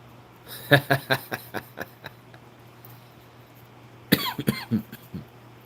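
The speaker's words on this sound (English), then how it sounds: "laughing makes me cough" A burst of repeated coughs, about seven in quick succession, then a short pause and a second rougher round of coughing, fairly close and loud over a faint hum.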